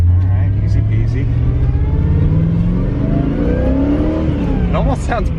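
V8-swapped Porsche 944 Turbo running an LT1 V8 with a power steering whine, a loud close engine drone that rises in pitch as it accelerates, with a voice talking over the top.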